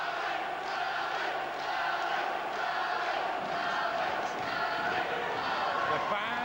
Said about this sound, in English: the pub crowd behind where Ali Nuumbembe has a caravan are making huge amounts of noise